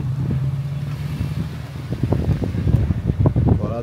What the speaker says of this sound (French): Il y a du vent, donc ça risque, je sais pas si vous allez bien m'entendre.